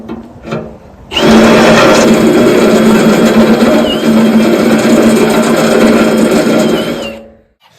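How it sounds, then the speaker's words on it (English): A power drill whines steadily into metal of a tractor tooth bar on a Kubota tractor for several seconds after a brief start, loud and close, then stops. "I'm going to drill the rest through this way."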